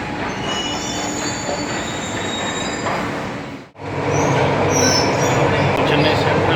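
A train at Chennai Central railway station rolls through late at night with loud, sustained wheel squeal and rumbling rail noise, broken by a brief dip before the screech returns close and strong.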